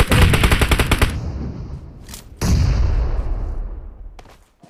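Rapid automatic gunfire in the mobile shooter Battlegrounds Mobile India: a loud, dense burst of shots for about a second, then two more heavy volleys with echoing tails that fade out.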